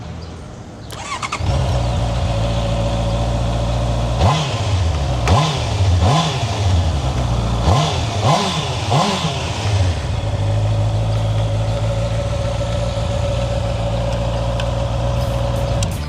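A Honda CB650R motorcycle engine starts and idles close by, then revs sharply several times in quick succession before settling back to a steady idle.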